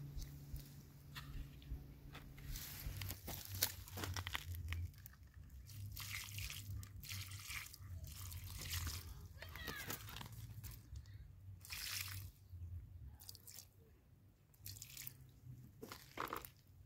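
Garden soil is watered after a product has been spread on it, giving a steady close trickle and splash of water with scattered drips and crackles, with no talking.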